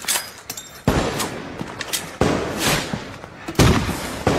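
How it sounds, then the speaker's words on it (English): Sniper gunfire in a combat setting, several sharp, loud cracks at irregular intervals, each trailing off into a short echoing decay, with lighter smaller pops between them. "being pinned down by sniper fire on approach of high value target"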